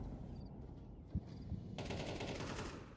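Automatic gunfire in a Counter-Strike esports match between FURIA fe and Flamengo, with a short burst of shots followed by a dense, sustained rattle of fire that is fairly faint in the background.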